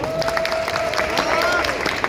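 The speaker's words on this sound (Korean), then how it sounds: "박수 부탁드리겠습니다" Audience applause with some crowd noise at a Korean boxing champion's post-fight interview, steady clapping through the whole short stretch with a sustained tone and possible voices mixed in.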